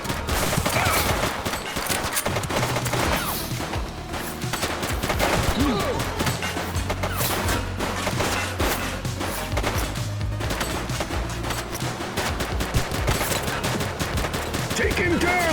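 Dense, continuous gunfire from The Precinct, a police action video game, with rapid bursts and automatic fire layered over a busy game soundtrack and effects, loud and sustained throughout with faint voices mixed in.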